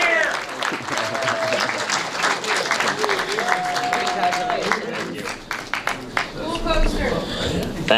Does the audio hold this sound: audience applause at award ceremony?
yes